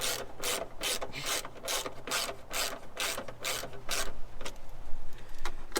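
A hand ratchet torques bolts on LED grille lights for a Ford Maverick, giving a steady series of quick, close clicking strokes with a faint rasp between them and no talk.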